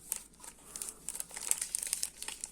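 A baking powder packet crinkles in close-up while half of it is added to a lentil kofta mix, soft irregular crackles and rustles, faint and alone.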